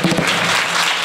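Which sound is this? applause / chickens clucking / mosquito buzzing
applause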